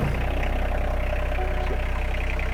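Rural King RK25 compact tractor engine idling steadily, a loud, continuous low diesel-like rumble with even pulsing throughout, close by and without talk over it.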